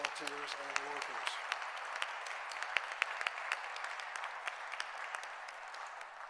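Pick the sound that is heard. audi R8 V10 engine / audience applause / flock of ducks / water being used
audience applause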